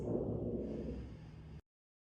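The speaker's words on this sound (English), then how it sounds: "Take those 3 cleansing breaths." A deep cleansing breath taken during a yin yoga session, lying on a mat, comes as one long, soft, close exhale that fades out before a short silence.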